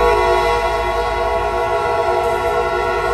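A Kuranda Scenic Railway heritage train sounds a loud, sustained multi-tone horn chord over low rumbling as it travels, with no voices.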